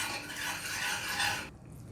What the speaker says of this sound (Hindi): इसको भी डाल लेंगे और अच्छे से मिक्स करेंगे